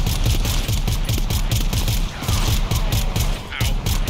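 A team of players opening fire together on enemies in the co-op shooter GTFO: rapid, dense gunfire from several weapons rattling continuously at close range for about four seconds, with brief gaps.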